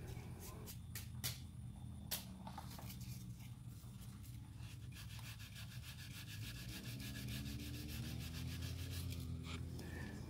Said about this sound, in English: So I will always sand in one direction and then sand in the opposite direction